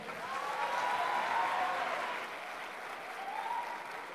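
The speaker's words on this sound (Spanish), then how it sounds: "Despidámoslo con un fuerte aplauso." An audience at an entrepreneurship talk applauds to send off the speaker, producing a steady wash of clapping at moderate, somewhat distant volume that eases slightly toward the end.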